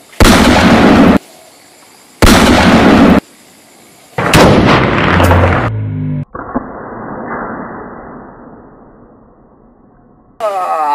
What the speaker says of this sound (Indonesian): ini tembak-tembakan Uzi